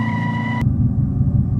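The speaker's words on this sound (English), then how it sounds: "And here's it just sitting idling" An electric car plays a synthetic V8 exhaust note while sitting at idle, giving a steady low rumble that continues alone; a brief tonal hum fades out early on.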